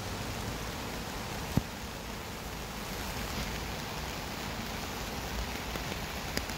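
Heavy rain pours during a dog walk on a wet day, a dense, even hiss of falling water with a couple of faint clicks, steady throughout and without voices.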